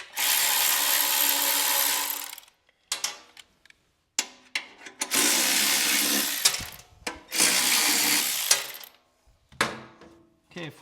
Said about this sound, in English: And I'm just using a 3/8 socket.